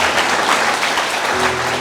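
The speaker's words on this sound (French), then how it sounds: "Bon, mon applaudissement s'il vous plaît." Crowd applause at a graduation ceremony for young students, a continuous wash of clapping throughout, with a faint voice or tone surfacing near the end.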